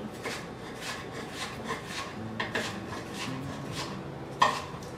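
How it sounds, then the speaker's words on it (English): A knife cuts cucumber slices on a cutting board in a string of short scraping strokes, evenly paced with one sharper knock near the end, close and fairly quiet. "So if you saw that I just kind of made 3 slices down the middle."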